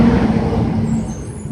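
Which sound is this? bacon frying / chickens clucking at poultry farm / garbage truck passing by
garbage truck passing by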